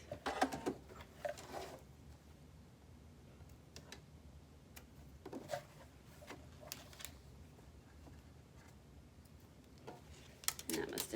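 A sewing machine stitches elastic into a fabric face mask, with reverse stitching over the seam. It runs in short ticking bursts separated by quiet pauses, and a voice talks softly in between.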